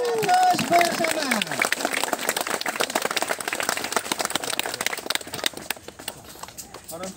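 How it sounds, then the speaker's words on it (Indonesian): Audience applause at a Muro ceremony, dense continuous clapping that fills the whole stretch and slowly thins toward the end, with a voice speaking over it at the start. "Mari kita berikan aplaus bersama."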